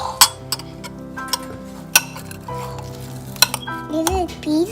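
Bread ingredients are mixed in a bowl in a home kitchen, giving sharp clinks of utensil on bowl at irregular intervals over soft scraping, with a child and an adult talking nearby.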